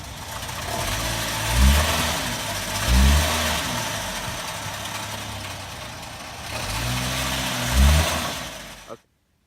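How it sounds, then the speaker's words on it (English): Front-wheel-drive car with its parking brake engaged, engine revving in three or four surging bursts over a steady idle rumble, close and loud, cutting off abruptly at the end. "someone was pressing on the gas while the parking brake was on"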